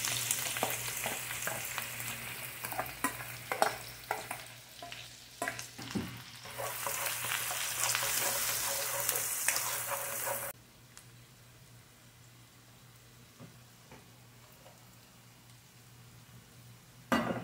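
Onions and a little butter sizzle and fry in a pan for chicken afritada, a steady loud crackle with stirring scrapes that drops suddenly to a quieter simmering hiss partway through.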